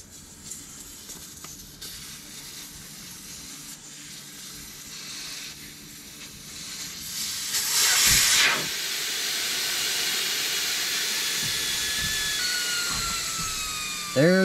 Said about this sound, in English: take the core out of the valve stem